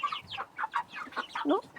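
Young chickens cluck and peep close by in a quick run of short, bright calls with no voices.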